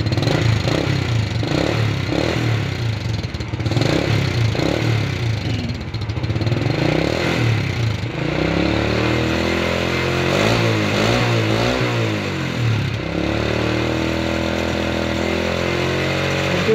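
Honda Wave 125 motorcycle engine revs repeatedly in a workshop, loud and close: choppy rising and falling throttle blips at first, then a steadier sweeping high rev with wavering pitch, no talk over it.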